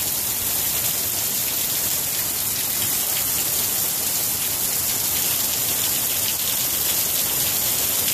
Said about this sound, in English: It hasn't rained like this in ages.